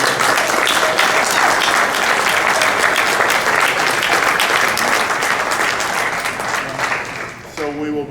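A conference audience breaks into sustained, dense applause that stays loud for several seconds, then thins and fades near the end.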